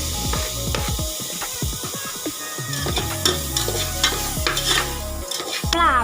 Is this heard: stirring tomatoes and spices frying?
yes